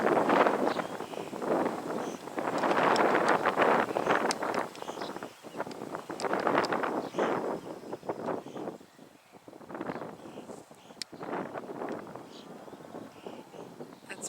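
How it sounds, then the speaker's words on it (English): Gusty wind in New Zealand buffeting the microphone in rough, rumbling bursts that rise and fall, loud and close, with no clear voices. "It's getting windy all of a sudden."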